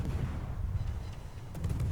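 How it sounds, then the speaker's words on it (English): Ship main-battery guns from a Kleber destroyer firing at an enemy Shimakaze in World of Warships, heard as a dense run of low booming shots that rolls steadily throughout, with heavier reports near the end. "it's time to start gunning at him"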